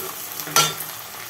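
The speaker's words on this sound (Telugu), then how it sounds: "పుదీనా వేసిన." Mint leaves dropped into a frying naatu kodi chicken curry give a short, bright sizzle burst that quickly fades into a low, steady frying hiss, close up with no talking.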